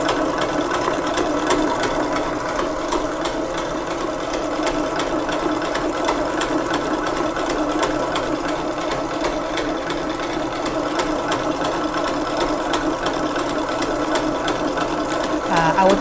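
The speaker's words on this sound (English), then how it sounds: "I will try to whisk for about 5 minutes, 4 to 5 minutes straight without stopping." An electric mixer runs at speed 8, whisking madeleine batter in a continuous, even mechanical whir with a faint rhythmic rattle, close and fairly loud throughout, while a person talks over it.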